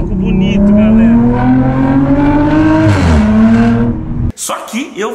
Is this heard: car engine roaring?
yes